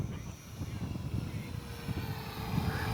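A HobbyZone T-28 Trojan 450mm RC warbird flying in a breezy park, its propeller motor a faint, steady buzz heard from a distance over low wind rumble.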